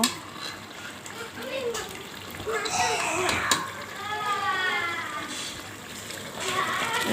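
Cooked mung dal splashes wetly as it is poured into a pot of fish-head muri ghonto, with a voice and other talk continuing over the pouring throughout.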